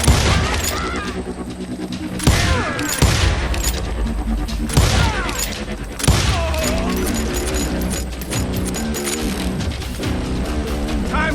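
Rapid volleys of gunfire crack through a Call of Juarez Gunslinger Wild West shootout, several bursts of shots with booming impacts and clattering mechanisms, loud and dense over dramatic game music.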